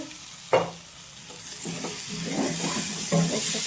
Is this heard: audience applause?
no